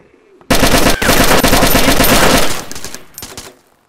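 Sustained automatic gunfire in the survival game DayZ, a loud dense burst of rapid shots lasting about two seconds, then tapering into scattered fainter bangs and echoes; no talking.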